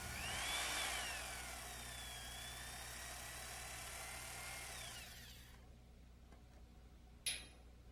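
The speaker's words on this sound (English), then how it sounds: "Next, drill the 1/4 inch rear landing gear bolt holes and install the bolts." A power drill boring 1/4 inch bolt holes through the rear landing gear of a RotorWay 162F helicopter kit, a loud whining drill run that stops midway, followed by a brief sharp clack.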